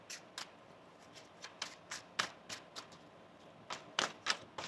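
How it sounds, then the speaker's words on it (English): Tarot cards are shuffled close and quietly, a run of quick crisp riffling bursts in an uneven rhythm. "Let's get one more shuffle here"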